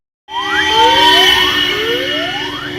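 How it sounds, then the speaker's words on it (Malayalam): An ambulance siren passes along a street in Thrissur, Kerala, with loud, close wailing sweeps that rise and fall over a steady traffic hum, lasting the whole moment. "ഒരു ആംബുലൻസ്."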